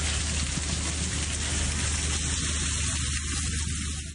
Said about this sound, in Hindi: इसके बाद आंधी और मूसलाधार बारिश शुरू हो गई।